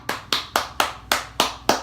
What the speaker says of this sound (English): you can also clap